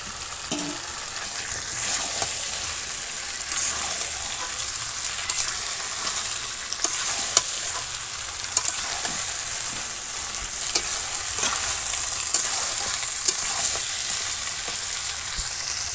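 Meat cooks down as kosha in a village kitchen pan with potatoes added, a continuous dense sizzle of frying with occasional soft stirring scrapes and pops, steady and close throughout.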